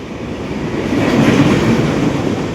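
A moving passenger train rumbles and rattles steadily from inside the carriage, a continuous loud roll of wheels on track with faint clickety-clack and no voices.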